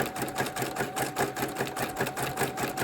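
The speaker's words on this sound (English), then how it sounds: "I also like to use needle down position so that everything stays put while you're working on it." A sewing machine stitches a fabric-wrapped rope trivet, running in a fast steady rhythmic chatter up close and loud throughout, with no pauses.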